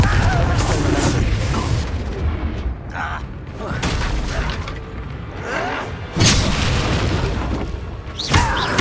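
Confringo fire spell explosions in the video game Hogwarts Legacy, several heavy booming blasts and thuds among ongoing combat noise, loud and close, with voices speaking between hits.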